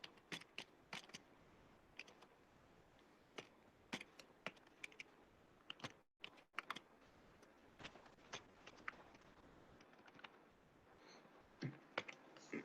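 Typing on a computer keyboard produces quiet, scattered clicks, some single and some in quick clusters, with short pauses between them, heard close and faint in a quiet room.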